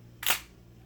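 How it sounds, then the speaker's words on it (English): A Minolta film camera fires its shutter in one sharp mechanical click, close and brief, with quiet room tone before and after. "we're going to advance our film, and here's the release of the shutter"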